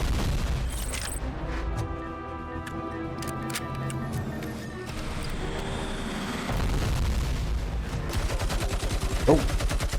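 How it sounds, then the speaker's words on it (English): A heavy machine gun fires in the RoboCop Rogue City video game at an arms expo, with stretches of rapid repeated shots amid booming game sound and music, loud and close. "There's another heavy machine gun right next to me."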